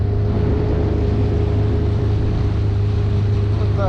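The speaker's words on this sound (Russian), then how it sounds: "И мотор работает на малых оборотах, и скорость средняя." A Sharmax S outboard boat motor runs at low revs on a calm river, a steady close droning hum with a constant tonal whine and rush of water, holding even throughout.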